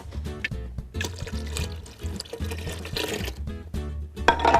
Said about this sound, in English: I'm gonna go ahead and add about another 2 cups of water